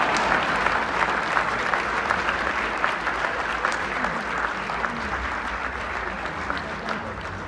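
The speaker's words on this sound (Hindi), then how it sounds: "आप लोग तालियां बजाएं।" Steady, dense applause from an audience at a comedy poetry event, many hands clapping continuously at a loud level throughout.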